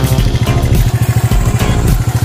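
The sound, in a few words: restored original motorcycle engine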